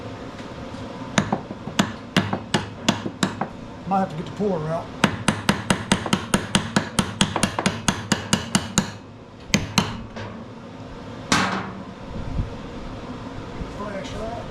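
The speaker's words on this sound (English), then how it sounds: "Take a hammer, give it a little tappy tap." Sharp metallic hammer taps in quick runs, dozens of close strikes with brief pauses, then a few louder hits on a Toro 22-inch Recycler lawn mower that stopped after hitting a big rock; someone speaks briefly between them.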